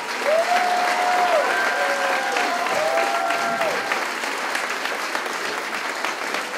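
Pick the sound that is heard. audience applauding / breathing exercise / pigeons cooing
audience applauding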